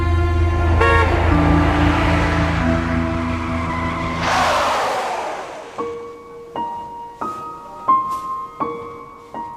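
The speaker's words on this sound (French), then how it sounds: "Il perd le contrôle du véhicule." A car driven drunk at 90 km/h in a 50 zone loses control, tires screeching loudly in a long skid that ends in a noisy burst, followed by a series of short, sharp horn-like tones.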